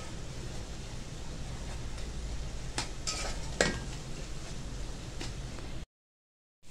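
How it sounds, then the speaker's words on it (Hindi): Minced meat qeema roasting over a high flame with whole spices, giving a dense steady sizzle with a few metallic spatula knocks midway before it cuts to silence. "अब तेज़ आग पर इसकी हम भुनाई कर लेंगे।"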